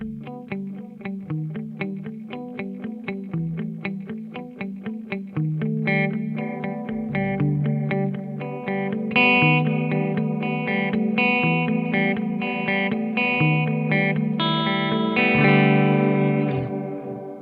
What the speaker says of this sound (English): I'm just going to put a little bit of chorus in the loop now,